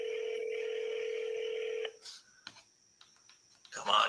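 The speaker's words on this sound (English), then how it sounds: "Come on, John, answer the phone" A telephone handset gives a steady dial tone, then a short run of keypad tones and clicks as a number is dialed. The sound is close and clear, with quiet pauses between the tones.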